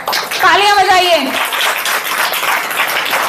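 A crowd at an outdoor village political rally in Uttar Pradesh breaks into steady clapping and applause that carries on evenly to the end, following a brief loud voice at the start.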